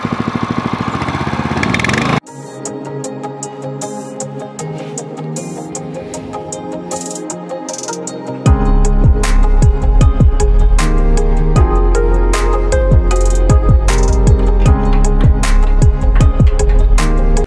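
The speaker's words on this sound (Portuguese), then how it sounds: "Bora acelerar até o talo agora pra ver." A tarp puller's small engine is revved to full throttle, first a steady mid-pitched running tone, then a louder, harder roar that holds strong and continuous to the end, with no talking.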